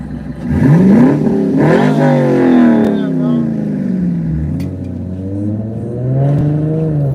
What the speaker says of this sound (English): Hey, you rev it? I want to hear it. Can you rev it?